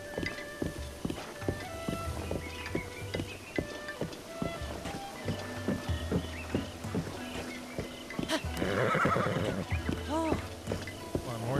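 Horse in The Legend of Zelda: Breath of the Wild, with game music and steady clip-clopping hooves under a player's commentary, and a short whinny-like burst near the end.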